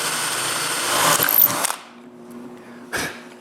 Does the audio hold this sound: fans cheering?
no